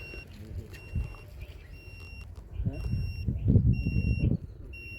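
A groundwater scanning device beeps in a steady repeating pattern during a 400-foot-deep underground scan on open land, while people talk nearby and outdoor noise rises in the background.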